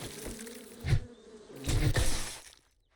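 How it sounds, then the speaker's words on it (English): A swarm of attacking bees in the game 7 Days to Die buzzes in two louder bursts over a steady insect drone, close and rough-textured, then fades out near the end. "he's gonna launch his bees at me, and they will follow me for a good bit."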